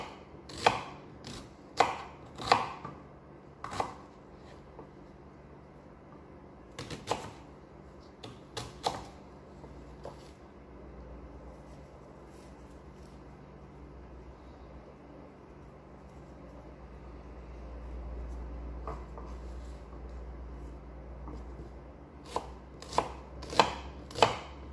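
A knife chops red onion on a board in a home kitchen, in bursts of quick sharp taps separated by quiet pauses, close and fairly crisp with low room hum underneath.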